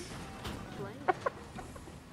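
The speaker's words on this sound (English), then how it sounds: "a bird!" A bird in the video game Fortnite gives two quick clucks close together, sounding out briefly over steady in-game background noise.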